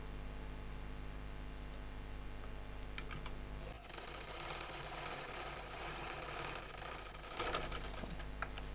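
A sewing machine stitches salwar fabric close by, first as a steady low mechanical hum, then breaking into a faster, busier rattling run of stitching from about four seconds on, with no talking.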